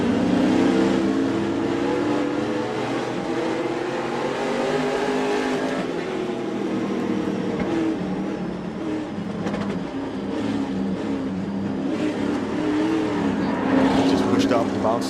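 Race car engine heard from an onboard camera at Knoxville Raceway, a loud continuous roar that rises and falls slightly as the car runs, with a commentator talking over it.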